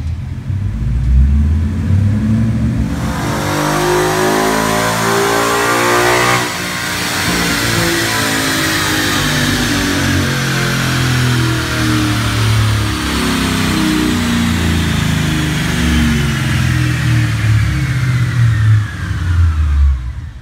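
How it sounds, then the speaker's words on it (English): A stock 5.0 Mustang on a chassis dyno with factory 18-inch wheels runs a full pull, its engine revving loud and close with a rising, sustained roar and a brief dip before climbing again to the end. "let's take a look at a pull with a stock 18-inch wheel"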